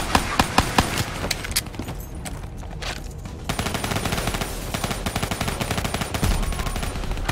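Rapid SMG gunfire in the Black Ops 3 campaign, dense bursts of shots rattling on and off, loud and close throughout with a brief lull in the middle.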